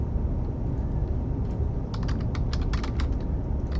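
Computer keyboard typing while a string function is coded: a quick run of crisp key clicks in the second half, close by, over a steady background hiss.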